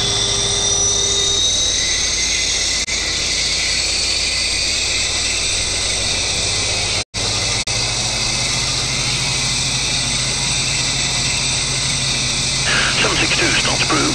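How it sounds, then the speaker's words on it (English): Jetstream 41 engine 1 spooling up on start in the PMDG flight simulator, a loud steady turbine whine and roar filling the whole stretch, with a brief dropout midway. "Starting engine number 1."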